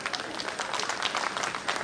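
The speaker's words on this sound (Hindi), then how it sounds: "आवाज अगर आ रही हो तो तालियां बजा दो साहब" Audience at a Hindi comedy and parody poetry recitation breaking into applause, a dense burst of many hands clapping steadily throughout, fairly loud and close.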